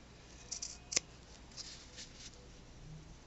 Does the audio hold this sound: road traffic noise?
no